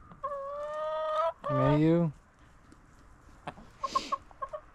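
Chickens around a backyard coop cluck and give a few drawn-out calls, followed by short scattered clucks, all fairly quiet and nearby, with a brief voice in between.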